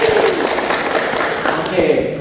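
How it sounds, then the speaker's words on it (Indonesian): A classroom audience claps for a student named Stefani after her answer in a school discussion, a steady wash of hand claps heard over voices that keep talking underneath. "Tepuk tangan Stefani."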